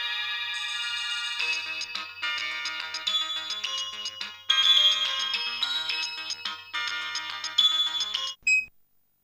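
A telephone ringtone plays while someone is being called, a bright electronic melody repeating in phrases for several seconds before cutting off abruptly.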